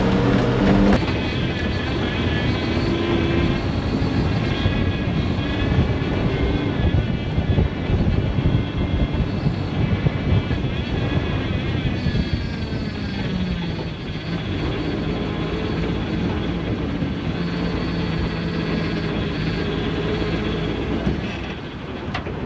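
A 1976 GMC C35 truck driving around a racetrack, its engine droning loud and close without pause, the pitch rising and falling with gear changes and throttle.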